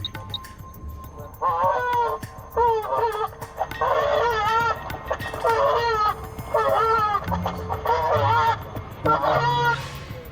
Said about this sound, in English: That one was a very distressed goose.